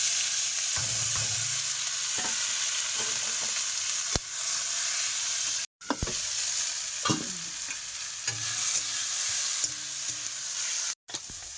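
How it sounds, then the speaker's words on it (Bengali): Fish frying in oil in a home kitchen pan gives a loud, continuous close sizzle, broken by occasional spatula scrapes and knocks and two brief silent gaps. "মাছগুলো কড়া করে ভাজবো, আবার একেবারে কড়া করবো না"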